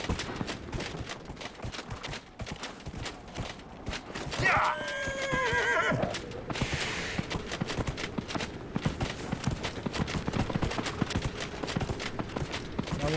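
A horse in the video game Dragon Age: Inquisition gives a loud whinny over a steady clip-clop of hooves that runs throughout the clip.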